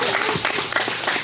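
A crowd at an outdoor weekly rally in Soseong-ri applauds with dense, steady clapping throughout a brief moment.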